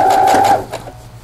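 A sewing machine stitches quilt fabric for a clamshell quilt: a close, rapid mechanical whir with a steady pitched hum that stops after about half a second, followed by softer clicks and handling.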